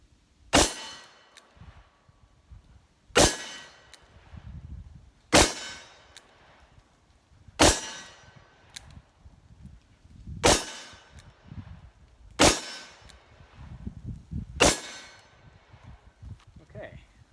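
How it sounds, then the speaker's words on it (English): Smith & Wesson 686 Plus revolver with a 3-inch barrel fired at a range, seven sharp, loud shots spaced about two to two and a half seconds apart, with quiet handling noise between them. "So let's go ahead and keep shooting."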